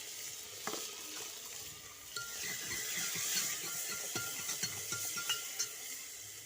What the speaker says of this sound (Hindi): और देखिए सब्जी में मेरी लग चुका है छोंक।